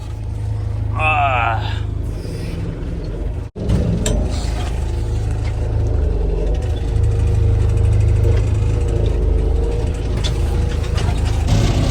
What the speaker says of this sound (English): This backhoe rattles a lot. Well, the back windows rattle a lot.